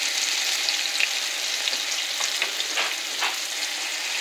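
Chili rellenos fry in a hot pan with a steady, dense sizzle and a few sharper crackles and pops, loud and close with no talking.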